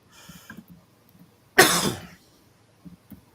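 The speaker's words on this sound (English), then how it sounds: "My apologies for coughing." One harsh, loud cough bursts out close by, with quiet murmuring and shuffling before and after.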